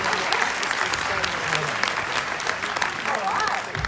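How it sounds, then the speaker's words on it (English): A crowd at a Sydney digital marketing forum applauds, with loud, sustained clapping filling the room and faint voices mixed beneath it the whole way through. "Give Holly a major round of applause."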